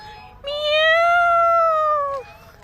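A cat in a Thai plant and pet supply shop gives one long, drawn-out meow. It is close and loud, rising slightly and then fading, over a quiet background.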